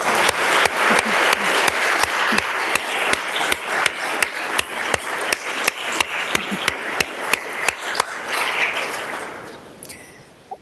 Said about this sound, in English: Let's give a round of applause and thank them.